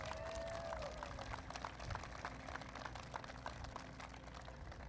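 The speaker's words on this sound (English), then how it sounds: "please give her another round of applause" Steady audience applause for Michigan governor Jennifer Granholm at an advanced battery manufacturing event, a dense sustained patter of many hands clapping throughout.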